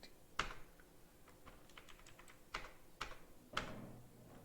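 Digits typed on a computer keyboard, a few distinct sharp key clicks with several fainter taps between them, close and quiet, no voices.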